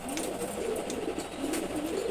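Racer pigeons, hybrid males resting in a loft, cooing softly in low murmuring calls that overlap continuously at close range.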